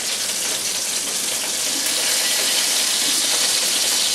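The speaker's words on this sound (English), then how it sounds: "sauce is boiling good here" A pan of sauce boiling hard, giving off a steady, loud bubbling hiss that holds unchanged throughout with no talking.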